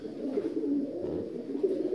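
North Caucasian fighting pigeons coo in their loft, a low, steady, throaty murmur that rolls on continuously at close range with slight swells and no voices over it.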